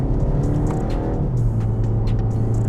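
BMW X1 xDrive23i M Sport accelerating hard, its engine note climbing steadily and then dropping at a quick gear change before pulling up again, heard from inside the cabin as a loud continuous drone.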